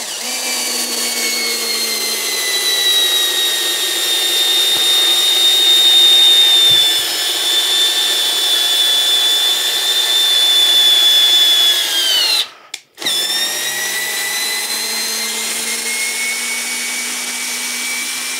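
A PROFIPOWER cordless screwdriver in first gear drives a screw with a steady, loud whirring motor whine that holds for about twelve seconds, cuts off abruptly, then resumes running near and alone.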